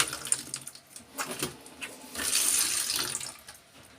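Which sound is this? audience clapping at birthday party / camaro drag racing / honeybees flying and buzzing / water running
water running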